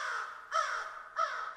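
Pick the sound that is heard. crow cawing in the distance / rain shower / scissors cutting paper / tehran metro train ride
crow cawing in the distance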